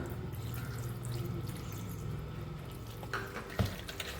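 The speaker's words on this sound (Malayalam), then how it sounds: "നമുക്കിതിലേക്ക് ഇനി ഒരു 1/2 കപ്പ് വെള്ളം കൂടെ ഒഴിച്ചു കൊടുക്കാം" About half a cup of water is poured into chicken biryani masala in a pan: a faint liquid splash and trickle over a low kitchen hum, with a brief louder splash near the end.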